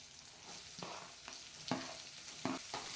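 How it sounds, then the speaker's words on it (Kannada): Green chillies, garlic and onion fry quietly in a pan for a village-style greens sambar. A faint, soft sizzle runs throughout, broken by several short, brisk stirring scrapes. "ನಾನಿವಾಗ ಹಸಿಮೆಣ್ಸಿನ್ಕಾಯಿ ಮತ್ತು ಬೆಳ್ಳುಳ್ಳಿ ಎಲ್ಲ ಫ್ರೈ ಆಗ್ತಾ ಇದೆ."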